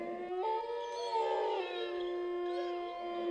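A wolf howl used as a sound effect within a told story: one long, tonal, wavering howl that rises and slides in pitch, sustained clearly and close with no talking over it.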